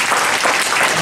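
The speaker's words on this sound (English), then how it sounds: "let's probably give a bit more applause for" Dense, steady applause from an audience at a talk by MIT professor Kerry Emanuel, many hands clapping together at full volume throughout with no break.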